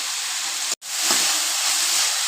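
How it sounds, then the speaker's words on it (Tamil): Onions and tomatoes sauté with salt in a pan for a kadappa side dish, giving a steady broadband sizzle and hiss throughout, broken only by a brief dropout of silence, with no talking. "வெங்காயம் வதங்கிடுச்சு"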